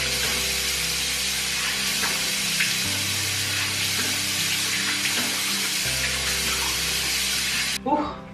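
Tap water runs steadily into a sink while a face is washed by hand. The flow is continuous and close, with small shifts in splashing, and it stops abruptly near the end.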